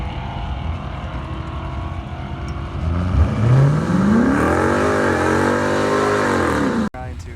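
A drag-racing BMW launches off the line, its engine revving hard and climbing in pitch for a few seconds, loud and close over a steady background roar before cutting off sharply.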